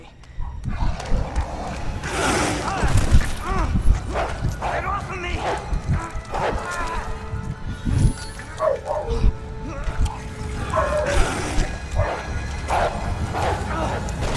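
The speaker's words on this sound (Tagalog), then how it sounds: "Uy, aso. Asong zombie rin." A zombie dog in the Resident Evil 2 video game growls and barks in bursts over a dense, busy game soundtrack, with a voice talking throughout.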